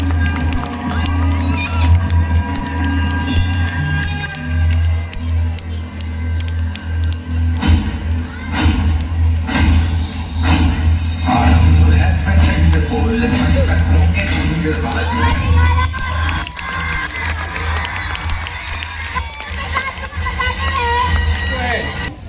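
Crowd of children at a Republic Day celebration cheering and shouting, a dense, continuous roar of voices with scattered claps and taps throughout, loud and close, with speech mixed into the din.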